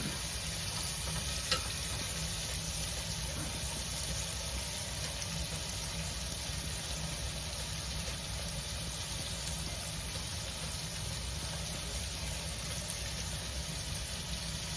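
Beef chunks sear in a stew pot with a steady, even sizzle and crackle that holds at a constant level throughout, with no talking.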